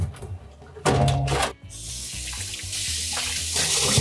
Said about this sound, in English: I'll give these lemons and limes a quick rinse.